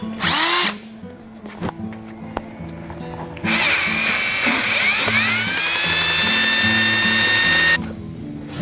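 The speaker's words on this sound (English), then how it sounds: "Just need to drill this guy out now." A power drill whines loudly while drilling out a bolt on a Nissan 240SX with a KA24E engine, starting in short bursts, then running steadily at high speed for several seconds before stopping.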